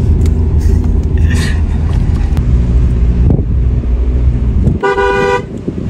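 Strong wind buffets the microphone at the Tinchuley view point near Darjeeling, a loud low roar rising and falling, with a car horn tooting briefly near the end.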